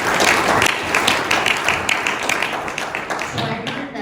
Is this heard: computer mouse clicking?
no